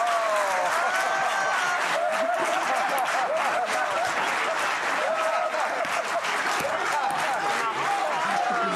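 Television studio audience applauding on a French talk show, a sustained, even wash of many hands clapping, with faint voices and laughter mixed in underneath.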